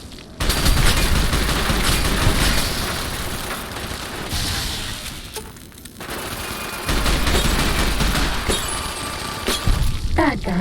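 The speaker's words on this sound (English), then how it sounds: "What kind of fucking nail gun is this?" Nail gun firing in Fallout: New Vegas, a loud sustained burst of rapid shots with sharp crashing impacts, broken by brief pauses and a final cluster of shots.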